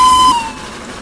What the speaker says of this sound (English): Blow the whistle.